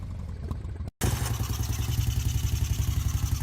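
A Moto Guzzi California touring motorcycle engine idles with a steady, even mid-pitched throb after a brief cut, close and continuous.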